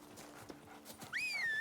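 Roach the horse from The Witcher 3 trots softly in the distance, the faint hoofbeats ending in a short, higher neigh-like whinny near the end.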